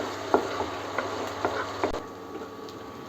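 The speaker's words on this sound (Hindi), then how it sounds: "तो ये देखिएगा जो हमारा लहसुन है वो इसमें भुनना स्टार्ट हो गया है।" Garlic frying in butter in a pan, a soft steady sizzle broken by a few light clicks and scrapes of stirring, close and fairly quiet.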